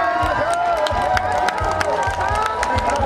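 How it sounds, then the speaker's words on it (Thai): Outdoor crowd at a rocket festival in Ban Kut Wa cheers and claps, a busy wash of voices and shouts with a loudspeaker announcer's voice riding over it throughout. "ขอเสียงปรบมือ"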